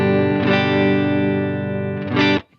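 A clean electric guitar tone runs through a Boss LS2 line selector with both channels active, ringing out as sustained strummed chords that swell twice and then cut off sharply near the end.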